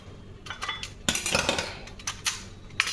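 Home kitchen cleanup after making roti, with metal utensils and dishes clinking and clattering in irregular bursts, close and fairly loud, no voices.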